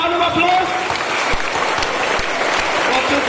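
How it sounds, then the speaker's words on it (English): A round of applause from a crowd, steady clapping throughout with a voice briefly heard over it. "please give a round of applause"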